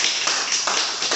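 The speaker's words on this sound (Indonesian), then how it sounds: "Tepuk tangan dulu untuk Anda semua." An audience at a cryptocurrency seminar applauds, a brief dense wash of many hands clapping together at steady loudness, with no speech over it.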